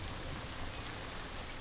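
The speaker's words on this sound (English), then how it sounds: "raindrops are falling on the scorched grass." Steady, dense patter of raindrops falling on scorched, dry grass in the Serengeti, an even wash of rain sound with no breaks, moderately quiet and continuous throughout.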